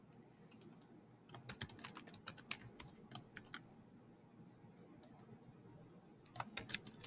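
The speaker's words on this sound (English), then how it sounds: "type your password slowly so that it gets it" Fingers tap a password on a Chromebook keyboard in soft, quick clusters of clicks. Several irregular runs come with brief pauses between them, close and quiet over a faint background hiss, with no one speaking.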